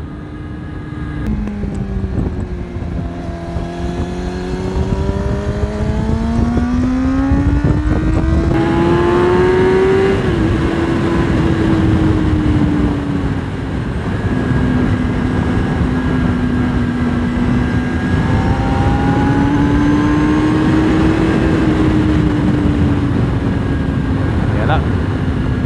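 A 2005–2006 Kawasaki ZX6R 636 sport motorcycle engine pulls hard through its mid-range while being ridden, a loud continuous drone whose pitch climbs and settles with steady wind roar. Speech is mixed in.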